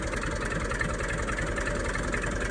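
A tractor engine running steadily in fourth low gear while spraying in a field, a continuous heavy, droning rumble with even mechanical throb and no talk.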